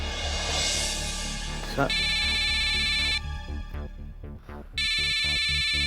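An electronic phone ringtone plays in repeated bursts, loud and close, with a short pause mid-ring before it resumes.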